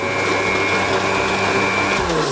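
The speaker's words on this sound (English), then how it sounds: "That's quite big bits of cereal, so I'm going to do a bit of a blend" A kitchen blender whirs steadily at high speed, loud and close, blending cereal in one continuous motor drone with a slight drop in pitch as it winds down at the end.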